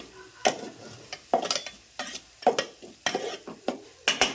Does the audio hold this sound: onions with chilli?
yes